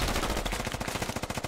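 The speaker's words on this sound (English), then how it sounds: "Oh, the insurgents target their own radio with Dishka fire." Sustained DShK heavy machine gun fire in the military shooter Squad, a rapid, steady stream of loud thudding shots running the whole stretch with no pauses.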